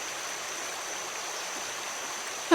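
A calm river flows steadily, an even, unbroken watery rush at moderate level with no voices, ending with a brief bump.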